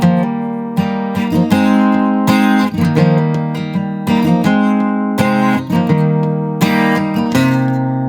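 Acoustic guitar plays a song's verse with a rhythmic fill, busy strumming and picked notes in a steady groove, close and loud with no voice.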